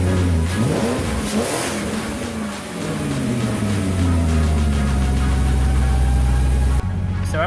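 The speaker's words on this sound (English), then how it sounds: "The engine runs nice and smooth." A BMW E39 engine fitted with a new Bosch ignition coil revs up and then settles into a smooth, steady run, loud and close, its pitch rising before it holds at a constant drone.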